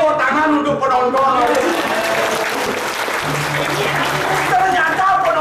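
A crowd applauds at a Balinese drama gong performance, with loud sustained clapping throughout and voices talking over it.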